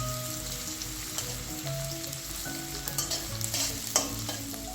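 Onions sizzle and crackle steadily in a hot pan, with occasional scrapes and clinks of a utensil stirring through the frying.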